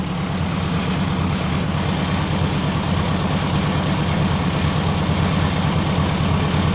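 A tractor engine idles steadily on the last fuel left in its lines and carburetor bowl, a loud, close, continuous low rumble with an even throb throughout and no voices.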